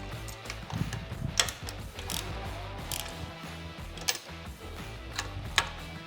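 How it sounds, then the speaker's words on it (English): A wrench ratchets on acorn nuts of a Harley-Davidson tie-down bracket, quiet clicking and metallic ticks in short irregular bursts, close up. "I'm using a longer wrench."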